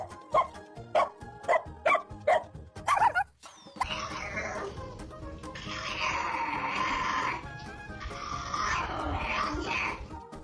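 A big dog gives a run of sharp, separate barks and yips close by, followed by a softer stretch of whimpering and rustling noise.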